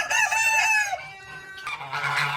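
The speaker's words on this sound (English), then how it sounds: "Look at them chickens." Chickens at an animal sanctuary clucking and a rooster crowing close by, a loud call at the start followed by softer clucks and another crow near the end, with no talk.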